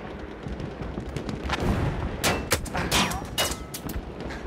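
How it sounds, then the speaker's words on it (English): Machine gun and rifle fire in Battlefield 1 crack out in irregular bursts of sharp reports over a dense battlefield din, getting louder and more frequent in the second half. "There's a machine gun."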